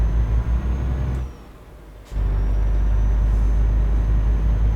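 A truck in Euro Truck Simulator 2 brakes hard at night, with a steady low engine drone dipping for about a second as an air-brake hiss cuts through, then the rumble returns at full strength.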